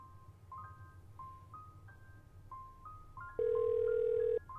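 A phone ringing on an unanswered call, a chirpy electronic ringtone melody of short repeating tones with one long steady beep near the end, clear and moderately loud against quiet room noise, no voices.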